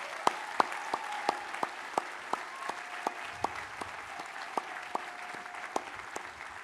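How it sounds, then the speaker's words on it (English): A graduation-day audience at Harvard Medical School clapping for the graduating class, a faint, thin spread of applause with sharper individual claps standing out at a steady pace. "let's together applaud all 164 of our HMS graduates today"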